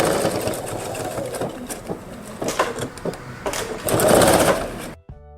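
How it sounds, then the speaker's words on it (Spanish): A sewing machine stitches forward and back near a zipper while a zippered toiletry bag is sewn, running steadily and close for about five seconds before it stops abruptly. "realizaremos una puntada hacia adelante y hacia atrás"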